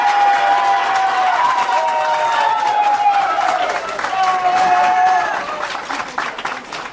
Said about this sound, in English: that's been the biggest applause we've had all year